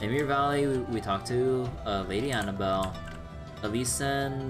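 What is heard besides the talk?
No everyday noise stands out behind the speech.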